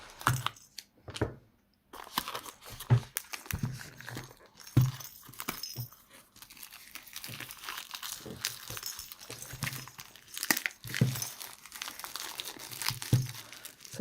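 A sealed plastic package holding a cat toy gets pulled and torn open by hand, with bursts of crinkling, crackling and ripping close to the microphone, separated by short pauses.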